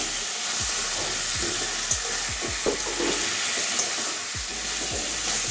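Washed potatoes and pumpkin tossed into hot spice paste in a pan, giving a steady loud sizzle with scattered stirring scrapes and clinks throughout.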